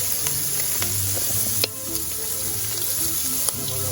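Blackened shrimp fry in a hot pan with a steady, close, crackling sizzle, broken by a couple of sharp pops and spatters, with no voices present.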